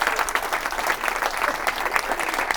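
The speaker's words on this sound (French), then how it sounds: "on peut applaudir Snoopy." An audience at a French superhero-themed comedy night applauds in a short, lively burst of dense clapping that stays steady and fairly close for a couple of seconds.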